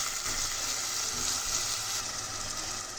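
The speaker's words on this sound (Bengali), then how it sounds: "এখন তেলের উপরে ভালোভাবে ভেজে নেব।" Chopped onion frying in oil with cinnamon and bay leaf for a chicken curry, giving a steady, loud, continuous sizzle close up with no speech.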